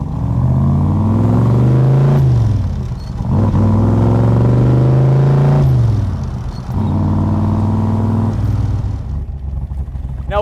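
A Backdraft RT4 Shelby Cobra replica with a Roush 427 V8 pulls hard through several gears, its loud, close engine note rising, dropping at each shift and climbing again, with a throaty rumble throughout.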